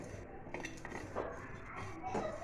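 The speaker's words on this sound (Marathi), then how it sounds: "आता आपण यामध्ये मगजबी टाकले आहे मगजबी देखील अगदी हलके असे भाजून घ्यायचे आहेत" Melon seeds dry roasting in a pan without oil for a masala blend, heard as soft scraping and light clinks of a utensil against the pan, fairly quiet.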